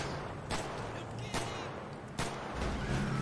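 Three sharp video game gunshots spaced about a second apart, with low rumbling in between and faint speech nearby.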